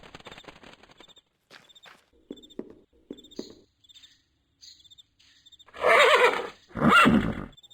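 In the video game Darkestville Castle, faint clip-clop hoofsteps and chirps, then two loud horse whinnies close by near the end.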